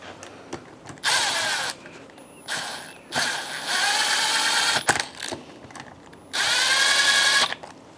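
Power tool driving and tightening M6 bolts on a Suzuki LTZ400 ATV engine, four separate whirring bursts of one to two seconds each, with sharp clicks and quiet gaps between.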